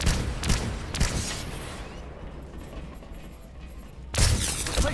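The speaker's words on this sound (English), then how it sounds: "This gun is loud as fuck." Loud, booming battle rifle shots in Planetside 2 on a test server, a few heavy reports at the start, a quieter lull with faint background noise, then another close, forceful burst at the end.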